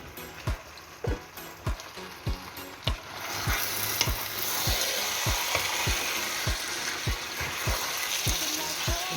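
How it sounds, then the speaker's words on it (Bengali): Beef chili with onions and pepper frying in a pan, a continuous sizzle with regular scraping stirs of a spatula, about a dozen evenly spaced strokes, close and clear with no talking. "এটা আমি একটু ভাজা ভাজা করে নেব"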